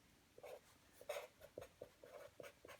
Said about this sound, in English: why don't I write it down now?